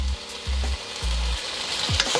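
Chicken pieces frying in oil in a pan for chow mein, a close steady sizzle broken by a few low thuds and scrapes as the pieces are turned over.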